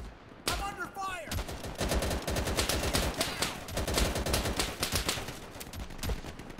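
Dense automatic gunfire erupts after a short quiet start in the WWII shooter Easy Red 2 at the Battle of Anzio, a loud continuous rattle of rapid shots with brief clipped voices mixed in.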